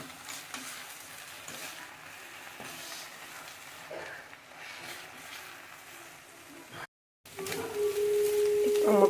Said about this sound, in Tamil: இப்போ இந்த முட்டையை நல்லா வேகிற வரைக்கும் போட்டு எல்லாத்தையும் மிக்ஸ் பண்ணி கிண்டி எடுக்கலாம்.